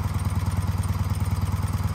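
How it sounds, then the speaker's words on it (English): A BMW Airhead boxer motorcycle engine with Bing carburetors idles slightly high, a steady close, loud low putter with even rhythmic pulses throughout and no talking. "since it's idling a little high"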